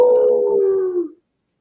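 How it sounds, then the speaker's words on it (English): Wolves howling as a tabletop game sound effect, a single loud, long wavering howl that slides slowly downward, with a fainter overlapping howl, then cuts to silence. "That's when you hear the howling."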